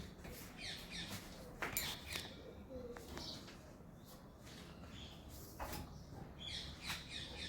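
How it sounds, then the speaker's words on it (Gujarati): Scattered bird calls and chirps ring out at moderate distance over a soft outdoor background, arriving in irregular bursts. "અહીંયા કેટલા સરસ મજાના પક્ષી અવાજ આવી રહ્યા છે"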